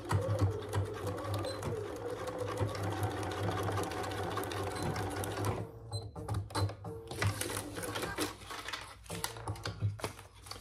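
A Bernina 570 sewing machine stitches with white thread in rapid, rhythmic bursts of mechanical clatter, with a short pause partway through before the stitching resumes; close and fairly quiet, with no talk.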